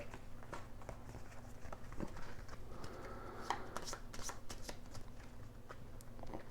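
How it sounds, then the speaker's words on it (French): Cards spilling in the Way of the Samurai video game, a short flurry of soft clicks and pattering over a steady low game hum, faint and fairly busy throughout. "Et mince, voilà, que je fais tomber toutes les cartes."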